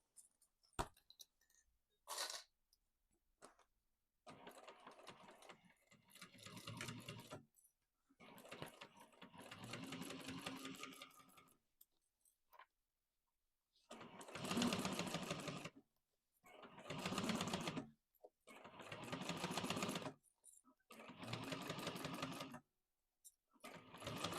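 Sewing machine chain stitching a bag, running in several bursts of a few seconds each with short pauses between, fairly quiet and steady, no talking.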